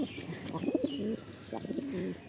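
Pigeons coo close by in two soft, throaty bursts, with faint chirps between them and no talking.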